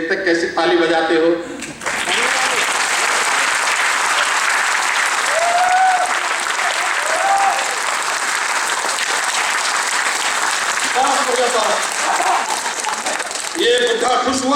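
Audience applause breaks out after a chant at a Dalit community gathering, a dense, sustained roar of clapping that runs loud and steady for most of the stretch, with voices audible at the start and end.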